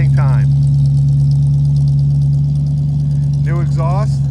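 A 1967 Ford Mustang coupe with a rebuilt engine and new exhaust idles with a steady, loud, close rumble, while someone speaks briefly at the start and end over the engine.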